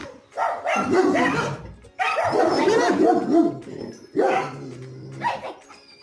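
Small dogs fight, yapping and barking in dense, overlapping bursts with whimpers, close and loud, in three main flurries.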